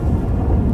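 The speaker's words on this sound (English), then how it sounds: "That a storm?" A deep, loud rumble of thunder fills a storm scene in The Witcher 3 video game, a dense, continuous low roll with no voices.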